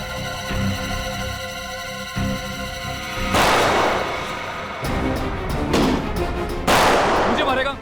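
Sharp, loud gunshot blasts burst out, two or three heavy cracks with ringing tails, following a stretch of tonal music-like drone.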